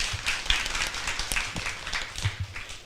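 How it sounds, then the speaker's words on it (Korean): An audience bursting into applause at a talk event, brisk scattered clapping from a small crowd that stays steady through the short burst. "큰 박수 부탁드립니다."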